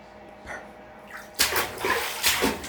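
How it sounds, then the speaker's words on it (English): Water splashes in a bathtub in loud, choppy bursts that grow busier partway through, with sloshing continuing between the bigger splashes. "Stop splashing the water, Martha."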